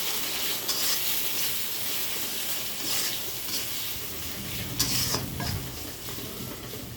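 Goat head curry sautéing in a pan, a steady close sizzle with intermittent stirring scrapes and occasional light clinks of a utensil, with no talk.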